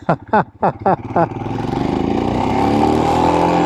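A Royal Enfield Himalayan motorcycle ridden in winter on sandy, gravelly Iowa roads gives a few quick throttle blips, then a smooth, rising engine drone that holds loud and close as it accelerates.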